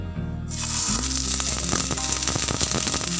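Paneer paturi fries in hot mustard oil with a loud, continuous close sizzle and crackle that swells right after the pieces go into the pan.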